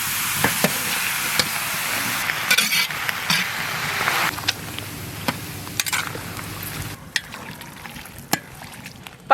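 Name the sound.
rendering pork lard and frying pork, stirring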